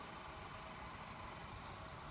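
Steady idle of a 2017 Mercedes-Benz E300's 2.0-liter turbocharged straight-four engine, a faint, even hum with no revving or change, heard alone without talk.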